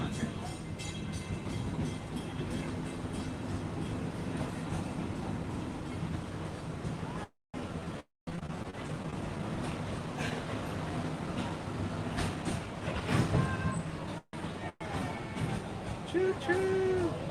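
Train rolling past at Disney's Animal Kingdom, a long steady rumble and rattle with faint clickety-clack heard from a moderate distance, with people talking and crowd sounds mixed in.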